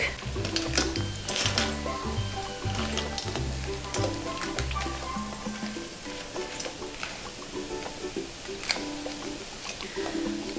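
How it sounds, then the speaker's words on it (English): Lobster meat sizzles and crackles in a hot pan as it is stir-fried, with a steady hissing texture broken by frequent clinks of a utensil against the pan. Nobody speaks. "Spread lobster out in the pan. Make sure the lobster meat touch the bottom of the pan."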